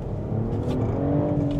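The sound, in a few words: 2024 BMW X5 50e hybrid accelerating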